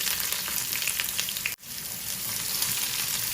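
Onions frying in oil for Sylheti atla khatta, a steady bright sizzle close by that drops out for an instant midway and then returns at full strength.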